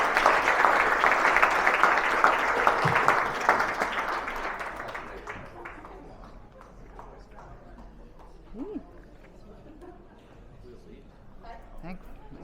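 Applause and cheering from an audience after a talk on networking and business connections, loud and dense at first, then thinning out over several seconds into scattered claps, with a voice speaking over the fading clapping.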